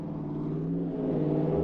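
A big Mercedes race car at the 1999 Le Mans qualifying gives a loud, sustained, raspy exhaust roar with a steady engine drone and no voices.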